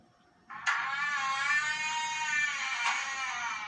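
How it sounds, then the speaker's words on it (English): A video game car engine hums steadily after a sudden onset as the car approaches, a sustained harmonic drone with a slight pitch drift, quiet surroundings beneath it. "you can notice that there's a car coming"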